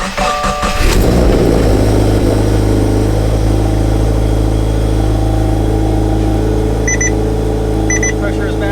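A 2015 Subaru WRX engine idles steadily on E85 flex fuel after a COBB flex fuel kit install, a loud continuous drone following a brief start-up burst, with a couple of faint clicks near the end.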